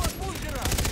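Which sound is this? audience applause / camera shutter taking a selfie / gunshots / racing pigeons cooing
gunshots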